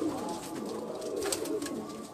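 Pigeons coo on a rooftop loft, soft throaty calls repeating over a steady, faintly noisy outdoor background.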